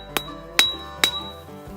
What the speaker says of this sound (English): getting some of these large chunks of quartz, giving them a bit of a break open